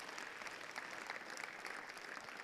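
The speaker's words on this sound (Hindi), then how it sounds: "अरे ताली तो बजाओ इसके लिए" An audience at the Kamdhenu Vidya Mandir school in Nagaur applauds students, a steady, fairly distant patter of many hands clapping that carries evenly throughout.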